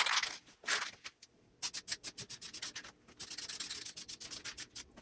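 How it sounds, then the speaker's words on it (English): Close, brisk rubbing strokes of a cloth wiping sanding dust off a Jeep beadlock wheel, a few slow passes and then a quick rhythmic run of wiping. "let's wipe off the dust really quick from sanding"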